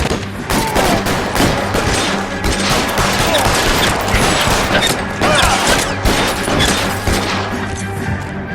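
Dense, loud gunfire in the L.A. Noire video game, rapid overlapping shots and bursts rattling continuously for several seconds with mechanical clatter and crashes, no speech over it.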